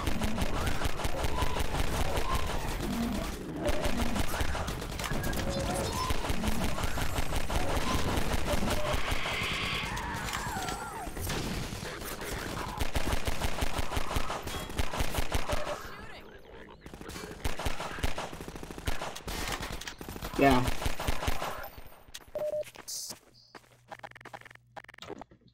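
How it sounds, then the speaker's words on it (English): Pistol fire in Half-Life 2 Episode Two, rapid repeated shots cracking amid dense game noise and music, with quieter gaps and scattered shots toward the end. "I'll take them all down with just my pistol."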